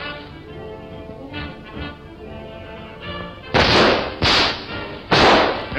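Three loud, sharp gunshot cracks from a 1933 black-and-white mystery film ring out close together near the end, over a muffled, hissy soundtrack background.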